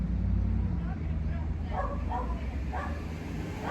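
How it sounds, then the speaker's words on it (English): A dog barks repeatedly on a street, mid-distance and partly masked by someone talking over it, with steady low background rumble throughout. "he's just barking up a storm"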